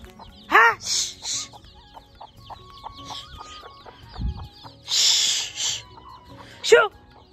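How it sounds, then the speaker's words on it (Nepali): Chickens being chased out of a garden cluck and squawk, with a few loud, sharp bursts scattered through the clip over quieter background clucking and some faint voices. "म चाहिँ बारीतिर कुखुरा पस्यो भनेर खेदामा जाँदैछु"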